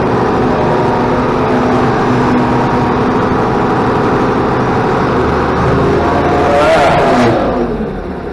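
A tractor engine drones loudly and steadily in gear, pulling a plow across a pasture while planting ryegrass, with a brief rise in engine pitch near the end.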